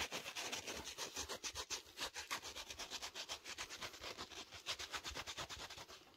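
Rapid rhythmic scrubbing in a close-up ASMR setting, a steady run of quick back-and-forth rubbing strokes, soft but continuous, with no voices.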